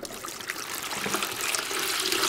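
Liquid pours and splashes into a container during a classroom measuring lesson, a steady rushing trickle that grows slightly louder and fuller over about two seconds, heard alone.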